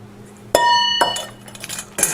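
A big spoon clinks against a bowl while egg white is folded into savory upside-down pineapple cake batter: three sharp ringing clinks, loud and close, spaced about half a second apart.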